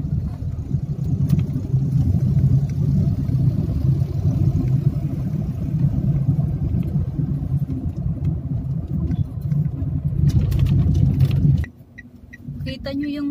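A car drives through city traffic near a checkpoint, its engine giving a steady low rumble from inside the cabin for most of the clip before the sound drops away abruptly near the end.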